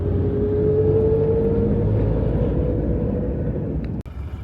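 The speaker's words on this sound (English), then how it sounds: "There's traffic jam right now." Inside a taxi stuck in a Nepali traffic jam, a steady engine and road rumble with a rising whine that fades toward the end, ending in a brief knock.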